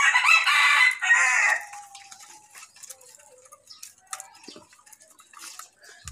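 A bantam rooster crows loudly twice near the start, two strong drawn-out calls, then quieter scattered clucks and small ticking noises follow with no talk.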